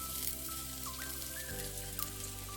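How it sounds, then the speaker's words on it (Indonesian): Shallots and garlic frying in hot oil, a steady dense sizzle with a faint rising tonal whine running through it, continuous and fairly close throughout. "setelah panas minyak, dimasukkan bawang merah dan bawang putihnya"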